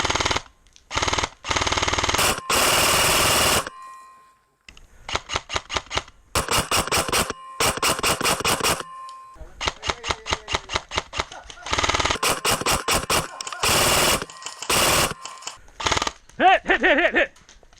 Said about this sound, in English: To test out this airsoft gun, I took it out to Nighthawk Airsoft in Ford, Washington.